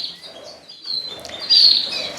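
Birds in an indoor bird room chirp in short bright bursts, several quick tweets close by and moderately loud, with a louder run of calls near the end.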